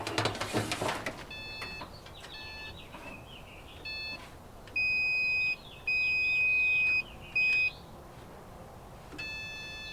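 A series of electronic beeps from an electrical tester used on a 1964 Dodge D-100 that won't start: short repeated tones, then longer sustained high-pitched tones with brief gaps, clear against a quiet background after an initial rustle.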